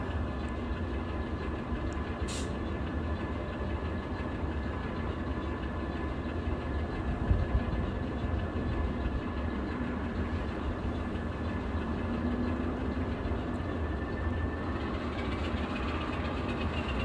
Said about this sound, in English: I think I hear a Norfolk Southern train coming